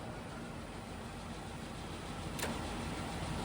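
A Schaudt heavy-duty cylindrical grinder from Germany, built for 1500 mm jobs, runs as its wheel head and table move. It gives a loud, steady broadband machine drone with one brief rising whine near the end.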